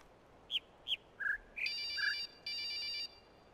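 A synthetic electronic phone ringtone from the video game The Witness: a few short chirping beeps, then two longer sustained tones, clear against a quiet background.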